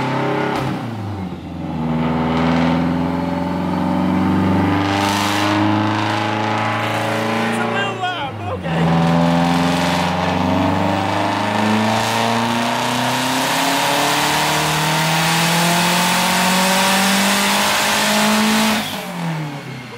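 A Subaru Legacy GT wagon on a dyno makes a full-throttle pull, its engine climbing steadily in pitch through the gears, loud and close. A short dip marks a shift partway through. Speech is faintly present.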